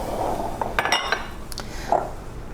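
A mixing bowl is set down on a kitchen counter while making plant-based spiced zucchini bread, with several close clinks and knocks of dishes and utensils, no voices.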